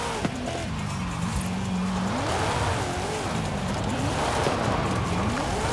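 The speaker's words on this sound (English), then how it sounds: "Whip and e-brakes, slide." In a racing video game, a car slides under the e-brake on a dirt track, its engine whining up and down as the revs swing beneath a continuous scrubbing tire noise. The sound is steady and close, with no talk over it.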